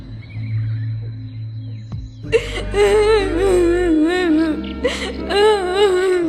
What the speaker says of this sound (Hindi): ये तो बूढ़ी चुड़ैल की रोने की आवाज लग रही है।